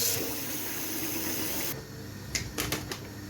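Fish coated in turmeric powder is washed under water. A steady stream of running tap water pours for a couple of seconds, then cuts off, leaving a few light clunks and splashes nearby.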